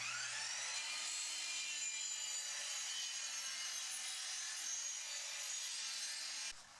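A hand saw cuts a wooden board to length for a root vegetable cabinet side frame, a continuous close rasping of fast, even strokes that goes on for several seconds before stopping.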